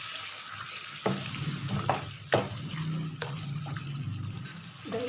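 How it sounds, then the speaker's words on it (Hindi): Yogurt sizzles and bubbles in a pan over low heat while chicken shahi korma is being cooked, a continuous frying hiss broken by several sharp stirring clatters of a spoon against the pan. "दही का पानी खुश्क होने तक मैं इसको थोड़ा सा पकाऊंगी।"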